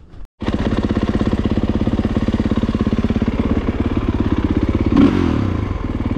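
A motorcycle engine fires up nearby and runs at a loud, fast, evenly thumping idle for several seconds, with a brief swell in the middle that sounds like a light blip of throttle.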